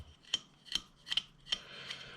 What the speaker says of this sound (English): A little bit of sanding.